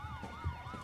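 Police car sirens wail outside a studio, a steady rising and falling tone held at moderate level from start to end with no voices over it.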